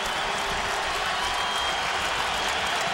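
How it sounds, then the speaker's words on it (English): A basketball crowd roars and cheers at a Pittsburgh at Syracuse game, a dense, steady wall of arena noise that holds loud and unbroken from start to finish. "Here comes the crowd trying to get back into it."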